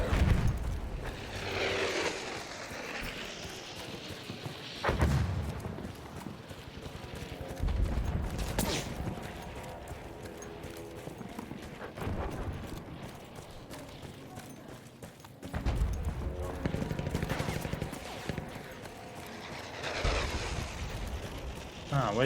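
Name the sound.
enemy gunfire in the video game Battlefield 1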